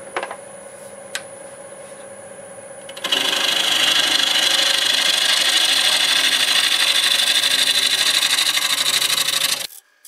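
A wood lathe turning at 760 RPM flattens the top of a Spanish olive wood bowl. A faint motor hum gives way to loud, continuous rough scraping of the cutting tool that runs steadily until it stops near the end.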